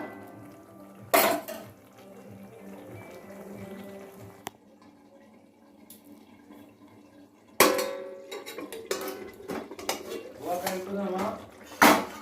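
Metal pot lid clattering as it is lifted off a pot of boiling potatoes, a sharp clank, quieter kitchen rumble, then more rattling lid and pot knocks, a cough-like sound and some murmuring nearby.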